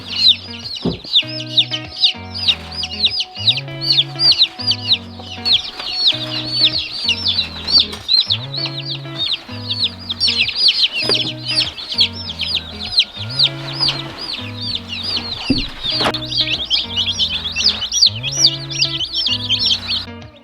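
Baby chicks in a brooder peep constantly in a dense, high-pitched chorus of overlapping chirps, over a low rhythmic repeating tone in the background, with no talking.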